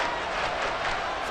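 Steady roar of a stadium crowd cheering at an NFL game in Madden NFL 24, a broad continuous wash of voices with no distinct speech.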